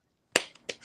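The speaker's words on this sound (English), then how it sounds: "Snap, clap, snap, snap" Audience finger snaps of appreciation at an online open mic poetry reading: one sharp cluster of snaps, then a second softer burst a moment later, close and crisp with no talking.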